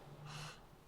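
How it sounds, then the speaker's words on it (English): One heavy, breathy exhale, close and fairly quiet, lasting under a second with no talk. "We got some heavy breathing."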